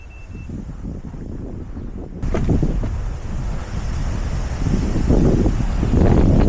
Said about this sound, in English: that wind's bad today